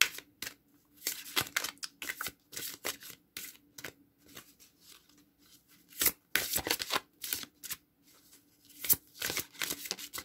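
Oracle cards shuffled by hand, bursts of quick riffling and slapping separated by short pauses, close and fairly soft, with no voice.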